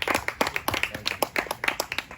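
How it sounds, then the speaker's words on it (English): A small group of people clap in an uneven, rapid patter of sharp, close hand claps lasting a couple of seconds, with no talking. "Clap it up."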